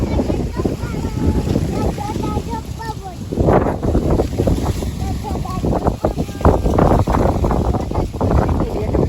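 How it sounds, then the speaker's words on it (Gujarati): Strong wind buffets close to the microphone in rough gusts throughout, while people talk over it. "કેટલો મસ્ત પવન ઉડે છે એવો ઠંડો ઠંડો"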